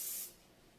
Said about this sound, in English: I'll spray it right here.